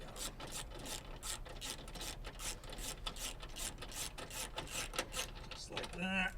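A ratchet wrench running nuts onto studs behind a car stereo bezel, rapid rhythmic clicking strokes repeated steadily, close and quiet, ending with a brief metallic rattle.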